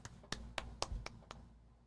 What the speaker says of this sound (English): 2 claps this time